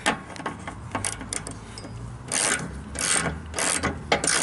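Ratchet clicking as a lock nut is tightened on a Craftsman LT1000 mower deck, with close, bright bursts of rapid pawl clicks coming in uneven spurts and no talking.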